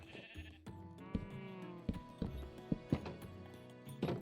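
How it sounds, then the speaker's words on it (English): Sheep in a Minecraft pen bleat repeatedly in short bursts, close and layered, with soft hoof-like clopping and shuffling beneath them and no talking. "After completing the cow and sheep pens, we bred the cows and bred the sheep."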